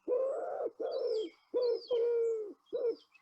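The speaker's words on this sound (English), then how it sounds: "This is the most familiar of our pigeons, the wood pigeon." A wood pigeon coos close by in five rhythmic, breathy phrases with short pauses between them, clear and alone, with faint small-bird chirps in the background.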